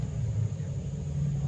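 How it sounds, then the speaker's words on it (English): A big engine nearby rumbles at a low, steady pitch, a continuous deep drone that is fairly faint. "Somebody's starting up a big engine over there."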